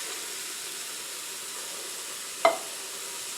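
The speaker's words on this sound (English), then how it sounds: "It's still super hot, as you can probably hear. It's sizzling" Steady sizzling hiss from a hot Ninja Foodi pressure cooker pot, close and even, with one sharp clatter of a utensil midway.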